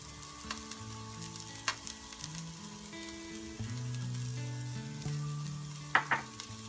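Browned onions sizzling and frying in a pan with salt and garam masala, a steady close sizzle with occasional stirring clinks and scrapes, no voices.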